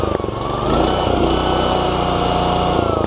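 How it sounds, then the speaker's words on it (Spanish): A Honda-powered Pubert L Senior tiller engine runs steadily just after being pull-started, a loud, close, even small-engine drone that holds its pitch for about three seconds. "Y simplemente tiramos de la cuerda. La máquina arranca perfectamente."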